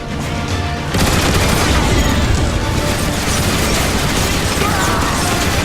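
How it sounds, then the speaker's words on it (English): Turret gun emplacements blasting at Decepticon Seekers in the Transformers: War for Cybertron video game, a loud, dense barrage of rapid booming fire and mechanical clatter that starts abruptly and continues without a break. "I think you can take them out with the gun emplacements!"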